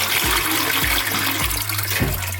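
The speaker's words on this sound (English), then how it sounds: "So we'll just flush it again till it's empty." A toilet flushes repeatedly in a bathroom as the top tank is emptied, steady rushing water running throughout with several brief surges at roughly even intervals, close and fairly loud, with no talking.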